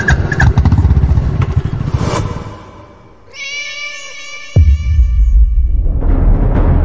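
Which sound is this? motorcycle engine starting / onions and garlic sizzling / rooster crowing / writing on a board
motorcycle engine starting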